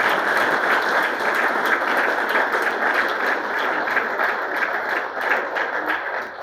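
A large congregation at a church service applauds with loud, dense, sustained clapping that holds evenly for several seconds.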